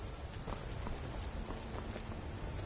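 Steady rain patter from the Bloodborne video game, a dense continuous wash of drops with faint scattered hits underneath, no talk.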